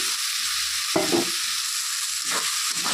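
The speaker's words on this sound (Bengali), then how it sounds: "এখন আমি এর মধ্যে ভেজে রাখা আলুগুলো দিয়ে দিচ্ছি।" Fried potatoes drop into a pan of thin katla fish curry with ginger and cumin paste. A loud sizzle and stirring clatter sound up close, with two bursts over a steady frying hiss.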